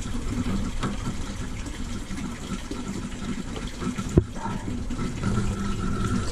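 Water from a gravity-fed buffer tank and pressure washer rushes steadily into a 5-gallon bucket during a flow test, a constant gushing hiss with a brief sharp knock partway through.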